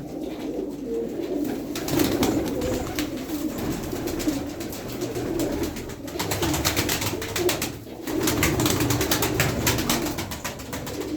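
Pigeons coo in repeated low, throaty calls that overlap continuously, close and fairly loud, with no voices.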